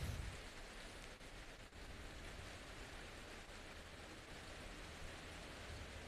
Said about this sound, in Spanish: Además está lloviendo